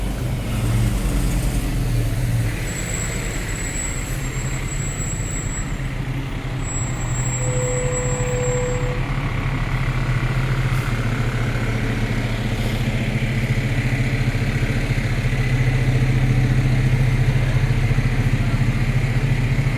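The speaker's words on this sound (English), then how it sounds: "That fire truck's noisy." A fire truck rumbles along a downtown city street on a Saturday evening, its loud, deep engine drone steady and close throughout, with brief high whines and hisses rising above the roar.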